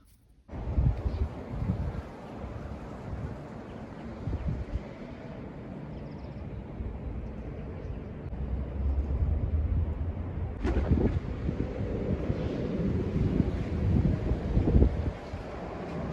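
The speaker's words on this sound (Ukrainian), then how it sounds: "такий вітер холодний" Cold autumn wind blowing across the microphone outdoors, a continuous rough rumble with gusts that swell louder in the second half.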